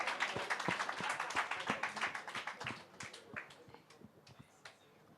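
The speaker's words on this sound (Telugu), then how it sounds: "క్లాప్స్ కొట్టండి వాళ్ళకి" An audience at a live film celebration event claps, a dense burst of applause that thins out into scattered, fading claps over a few seconds.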